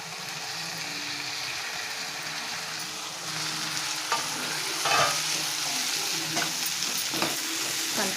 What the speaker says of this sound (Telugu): ఆనియన్స్ బ్రౌన్ కలర్ వచ్చినాయండి ఇప్పుడు దోసకాయ ముక్కలు వేసేసుకుందాం ఇందులో